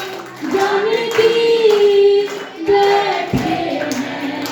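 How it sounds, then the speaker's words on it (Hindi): An audience claps in time with a Ram bhajan sung to Shri Ram and Janaki, with rhythmic hand claps beneath a held singing voice that rises and falls over the beat. "तालियां बजाओ"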